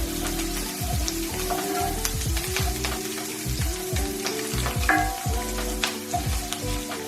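Tomato puree sauce sizzles steadily in a frying pan while a utensil stirs it, with close scraping strokes over the constant hiss and no voices.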